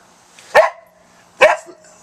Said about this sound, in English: I got my dog barking at me again.